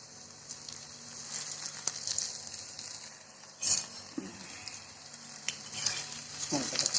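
Spinach vadi deep-fry in oil with a steady, bright sizzling hiss, joined now and then by soft clinks and bubbling pops, close and fairly quiet, with no one speaking.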